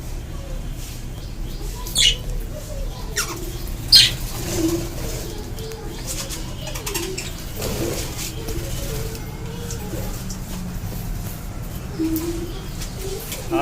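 Budgerigars newly settled in an aviary colony chirp and squawk intermittently, with wing flaps and scattered calls over a low background hum, while a person talks at moderate distance.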